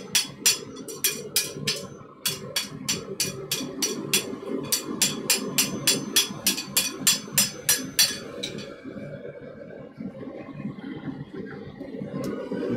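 A blacksmith's hammer rings on hot metal over an anvil in a smithy, in a fast even run of sharp metallic strikes with short pauses, then the blows stop and a low background hum carries on alone.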